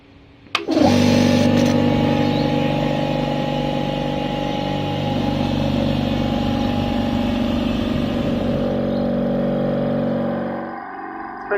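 An AEG AC3060S silenced air compressor with a 60-litre tank starts with a click, then runs at a steady low hum and drone for about ten seconds before shutting off, fairly loud and close, without voices.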